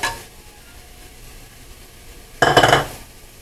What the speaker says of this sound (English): now I'm going to add the mushrooms in here